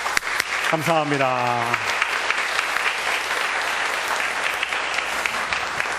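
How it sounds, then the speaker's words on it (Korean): A church congregation gives warm applause to welcoming visitors, a full, sustained burst of clapping that continues steadily while someone speaks briefly over it at the start. "우리 뜨거운 사랑과 격려의 박수로 맞이하도록 하겠습니다"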